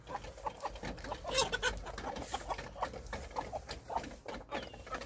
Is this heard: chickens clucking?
yes